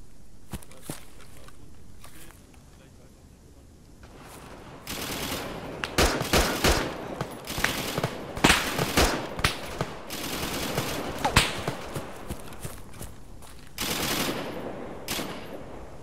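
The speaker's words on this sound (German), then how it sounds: "Schüsse von rechts." Gunfire in ArmA 3 on the Livonia map: bursts of automatic fire and single shots crack out irregularly, some loud and close, others more distant, over continuous background noise.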